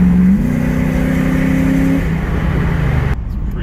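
A V8 engine in a fourth-generation Toyota 4Runner on stock, unbypassed exhaust drones steadily from inside the moving vehicle, the low rumble rising slightly in pitch, then easing off near the end.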